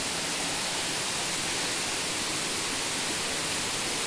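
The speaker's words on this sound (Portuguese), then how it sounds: "E aqui tá um córrego, ó. A água desce." An underground stream rushes over rocks inside a cave in the Varzelândia region of Minas Gerais, giving a steady, loud, hissing wash of water with no pauses and no talking.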